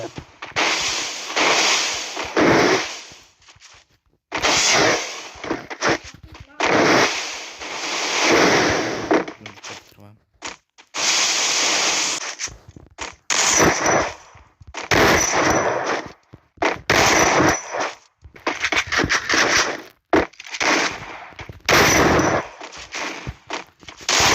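Rapid bursts of gunfire from a shootout in the video game Free Fire, loud and close, in repeated volleys separated by short pauses.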